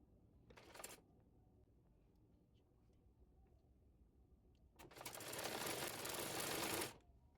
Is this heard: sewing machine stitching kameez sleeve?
yes